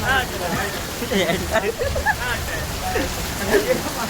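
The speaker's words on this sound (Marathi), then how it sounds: "हा पाऊस आता धबधबा सारखा वरतो" Steady rain patters and hisses on surfaces while people talk in the background.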